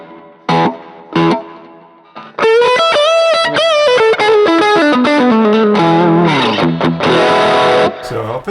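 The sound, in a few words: guitar tone through Neural DSP Archetype with delay, reverb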